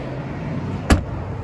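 A single solid thud of a BMW 320i M Sport boot lid shutting, brief and fairly close, against a steady low outdoor rumble.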